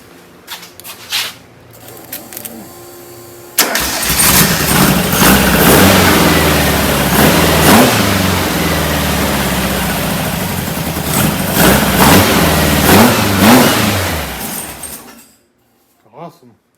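A freshly built VW 2165cc Type 1 high-performance engine cranks, catches and runs loudly, revving up and down repeatedly before cutting off, with people talking faintly before it starts.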